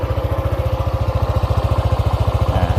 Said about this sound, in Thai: อันนี้คือเสียงเครื่องยนต์นะครับผม